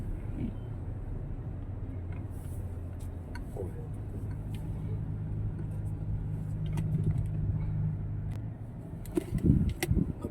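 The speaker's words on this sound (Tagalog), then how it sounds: "Na-traffic tayo dito mga ka-driver sa may McKinley." Road traffic near McKinley with cars stuck in a jam: a steady low rumble of idling and slowly creeping vehicles throughout, with a few louder knocks near the end.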